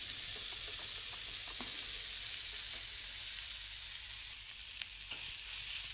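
Onion fries in a pan over a low flame, giving a soft, even hiss with a few faint clicks from stirring throughout.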